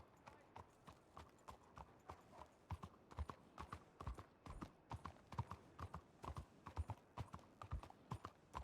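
Horses clip-clopping in the Red Dead RP video game, a steady run of close hoofbeats on hard ground with occasional louder strikes, a horse whinnying faintly now and then.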